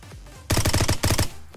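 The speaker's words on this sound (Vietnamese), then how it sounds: "Anh em thấy tốc độ táp của mình với khẩu súng M16 nó có chuất không?" Bursts of M16 rifle fire in a shooting video game: two loud, close volleys of rapid, evenly spaced shots, the first about five rounds and the second about four, with a brief pause between and no talk over them.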